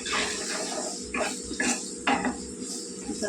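A spoon stirs a mango, eggplant and drumstick curry in a metal pot, scraping and clanking in several distinct strokes against a quiet background.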